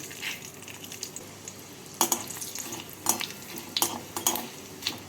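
Dried red chillies, a bay leaf, cumin and coriander sizzle in hot oil and ghee, a close crackling hiss broken by sharp clinks and scrapes of a spoon against the pan.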